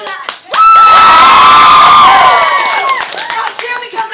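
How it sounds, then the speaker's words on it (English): Crowd at an anime convention storytelling panel cheers and whoops loudly for about two and a half seconds, with high shrieking voices, then fades into scattered chatter. "Cheer for that."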